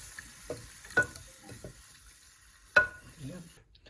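A spoon stirs milk into a browned nacho cheese sauce base in a pan, giving soft scraping strokes and a couple of sharper clinks over a low bubbling sizzle.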